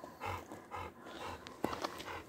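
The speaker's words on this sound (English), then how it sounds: "Panting, yep." A dog pants in rapid, breathy bursts on an outdoor walk by a lake in the Lake District, the rhythmic huffs fairly close and steady with a brief louder snort partway through.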